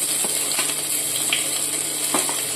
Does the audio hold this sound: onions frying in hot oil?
yes